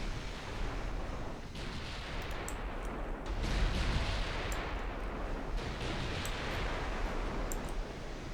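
Five-inch naval guns firing in a battleship engagement in Ultimate Admiral Dreadnoughts, a dense, continuous roar of gunfire with repeated sharp blasts layered over a steady rumbling background.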